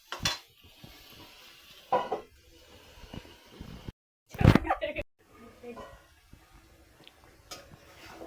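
A pot of chicken and tomato curry being covered with a lid, with scattered clanks and clinks of metal cookware, one louder lid clatter, and brief pauses.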